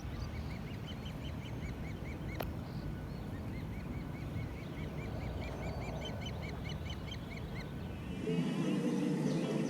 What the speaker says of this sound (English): There's a bird, and then there's a baby there too.